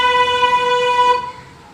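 A loud, sustained car horn blares steadily for over a second, then cuts off, leaving faint background noise.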